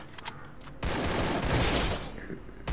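Rapid gunfire in the Free Fire video game on the Bermuda map: a sustained, loud burst of automatic shots fills nearly two seconds, preceded by a few sharper short bursts and followed by another shot at the end.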